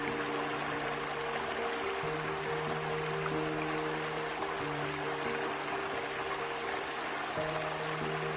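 Iguazu Falls, hundreds of waterfalls dropping into tropical forest, give a steady, dense roar of rushing water that fills the whole scene, loud and unbroken, with faint tonal hums running underneath.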